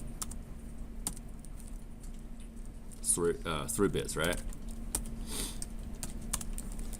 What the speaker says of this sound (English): You can start a new line and start typing.